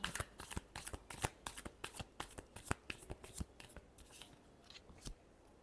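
Tarot cards are shuffled by hand in a rapid series of crisp riffling snaps and slaps that speed up and slow down, close and quiet, and trail off near the end.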